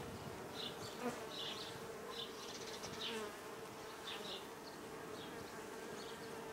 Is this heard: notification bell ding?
no